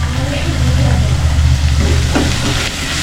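Onion frying in a pan for a village-style crab masala gives a steady, continuous sizzle, with a low rumbling hum underneath and a couple of brief stirring scrapes near the end.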